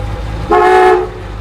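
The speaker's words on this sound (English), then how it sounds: "Horn works in the steering wheel." A 1965 Malibu convertible's steering-wheel horn gives one loud, close, steady honk lasting about half a second, and then the sound cuts off.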